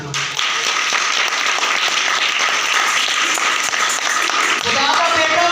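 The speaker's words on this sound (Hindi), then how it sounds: "खुदावंद यसू की जोर नाल ताली।" A church congregation claps loudly and steadily, dense sustained applause filling the room for several seconds.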